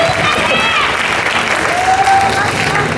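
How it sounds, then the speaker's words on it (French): Audience applause fills a convention panel room at a manga event in Paris, dense and steady clapping from a crowd throughout, fairly loud and close with no pause. "Vous n'êtes pas assez applaudissant, on peut dire."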